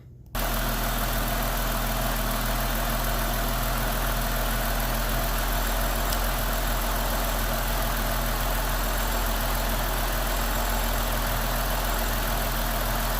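A Jeep Wrangler JL with its stock airbox starts and settles into a steady, loud idle, the engine's low rumble droning evenly close to the microphone with no talk over it.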